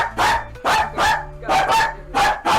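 A man imitates a dog's bark with his voice, giving five loud, close barks in a quick, uneven sequence with brief gaps between them.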